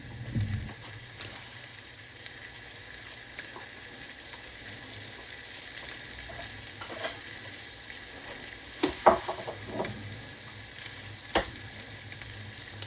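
A pork chop sautéing in a pan, giving off a continuous close sizzle and frying crackle with a few sharper taps and clinks toward the end, with no voices.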